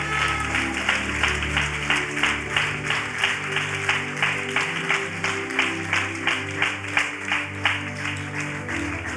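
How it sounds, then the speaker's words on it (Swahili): A church congregation claps for Jesus in steady unison, about two beats per second, and the rhythmic applause carries on throughout with a faint voice beneath it. "you clap up for Jesus"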